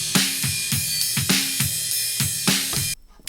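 Drum kit recorded through overhead microphones in a rehearsal room, with about eight evenly spaced hits of snare and cymbal wash ringing with bright high end, then a sudden cutoff into near silence.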